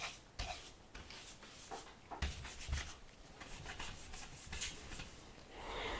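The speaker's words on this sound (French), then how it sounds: "Petit coup de brosse comme d'habitude." A brush swept over a freshly sanded surface, giving soft, quiet, close bristly strokes in short uneven bursts with small gaps between them.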